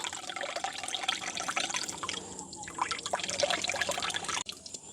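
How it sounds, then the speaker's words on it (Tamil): Water trickles and drips steadily, close by, as it is squeezed out of flour dough by hand and drains away, with a faint wet splashing texture throughout. "இப்படியே நாங்கள் நல்ல வடிவாக தண்ணியை முறுக்கி புளிஞ்செடுப்போம்"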